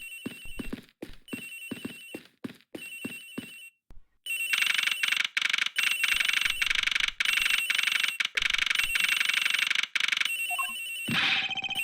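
Cell phone ringing inside the Ace Attorney Investigations video game, a repeating electronic ring tone in short rhythmic bursts that becomes louder and continuous partway through, with no voices.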